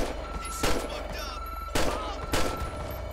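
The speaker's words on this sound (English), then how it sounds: "Dispatch, shots fired." Gunshots ring out in the police game LSPDFR, three distinct loud cracks spaced about a second apart over a low background hum, with no talk between them.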